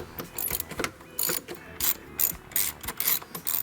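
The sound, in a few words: ratchet removing air box bolts on 2004 Honda Civic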